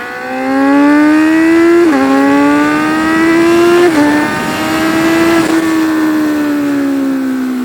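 A 2014 Kawasaki Z1000 motorcycle pulls hard in sixth gear, its engine note climbing steadily and loud with brief dips, sounding close and alone with no talk.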